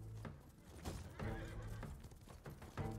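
A horse whinnies loudly in the video game Ghost of Tsushima, its harsh, wavering neigh rising over the steady clip-clop of galloping hooves.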